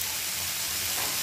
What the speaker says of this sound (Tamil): ஸோ நான் எனக்கு தேவையான அளவு தேங்காய் போட போகிறேன்.